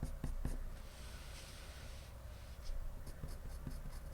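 A walnut brown colored pencil scratches across paper with heavy pressure, giving close, quiet, uneven strokes and short taps.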